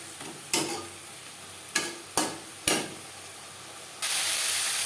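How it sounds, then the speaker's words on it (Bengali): Onion, tomato and garlic fry with salt and turmeric in a pan, several quick scraping stirs breaking a soft sizzle before a steady, louder hiss takes over. "লবণ হলুদ পেঁয়াজ টমেটো রসুনের সাথে বেশ ভালো করে মিক্স করে দেবো।"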